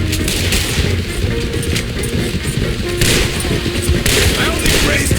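Heavy gunfire in the video game Red Dead Redemption 2: a continuous barrage of overlapping rifle and pistol shots with booming impacts, loud and close, with occasional shouted voices mixed into the chaos.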